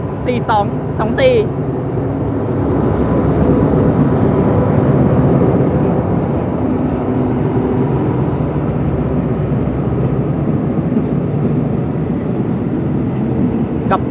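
An Alsthom diesel locomotive, no. 4224, hauling an ordinary passenger train in Thailand rumbles past steadily and loudly, with a steady roar of wheels and engine and brief high squeals near the start.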